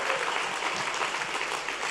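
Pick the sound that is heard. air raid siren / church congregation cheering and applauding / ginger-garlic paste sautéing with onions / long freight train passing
church congregation cheering and applauding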